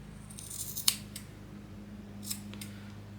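Scissors snip twice, crisp and close, trimming loose macramé fringe on a rainbow wall hanging, with a faint low hum in the background.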